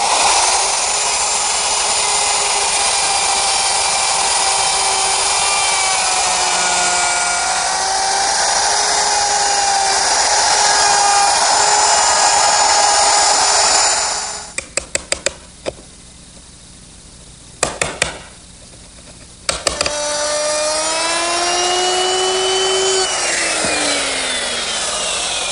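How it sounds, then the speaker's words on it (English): A router fitted with a collar and a straight cutting bit whines loudly and steadily as it cuts a rabbet in wood for a tall pine clock, drops to a few brief spurts, then spins back up to full pitch. "I'm going to use my router with a collar and a straight cutting bit"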